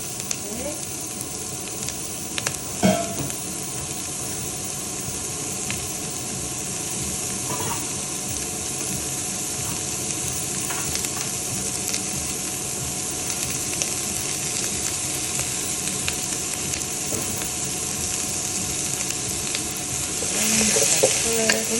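Steady, loud sizzling of carrots and other vegetables stir-fried in a very hot wok with vegetable oil for a tofu and vegetable stir fry, with a few scraping stirs and clatters along the way.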